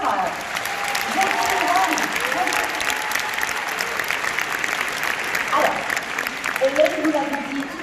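A large audience applauds loudly at a film premiere in the Grand Rex cinema in Paris, a dense, sustained ovation that continues while a presenter speaks over it.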